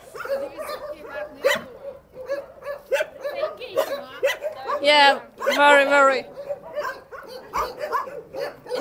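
Dogs at a dog shelter bark, yip and whimper in short, irregular bursts, several close by and one stretch of rapid barking, while a person talks among them.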